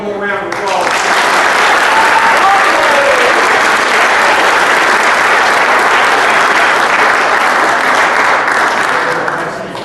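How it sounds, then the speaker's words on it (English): Banquet audience at a high school football awards banquet applauding the players, a dense, steady round of clapping that swells quickly and holds loud for nearly ten seconds before tapering slightly. "So let's give them one more round of applause."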